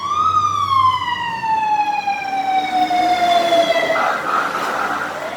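A loud siren-like horn blast sounds alone, opening with a sustained tone that slowly slides downward in pitch, then fades into a rough, noisy tail.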